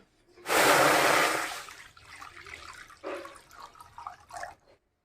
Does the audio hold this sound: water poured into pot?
yes